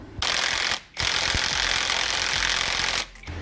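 Loud, close bursts of an impact or power tool hammering at the driveshaft centre nut of a 2013 Ford Focus, two long rattling runs split by a short pause, with a brief gap before the end.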